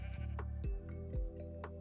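A Minecraft sheep bleats several times in quick succession, each bleat a short wavering cry, loud and close over a faint steady background tone, with no talking.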